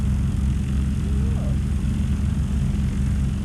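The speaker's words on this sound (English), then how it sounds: "on short final, Scott Antella, Scooter Stinson as he's called" Steady propeller drone of a Stinson light airplane fitted with vortex generators on short final at a Great Lakes STOL landing competition, a continuous low engine rumble heard from a distance throughout.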